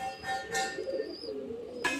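A young pigeon at a home loft of tournament birds coos softly and close by, giving a couple of brief, low throaty calls over a quiet background.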